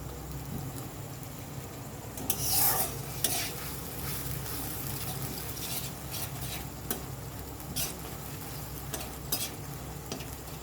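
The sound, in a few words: ginger garlic paste being sautéed in a pan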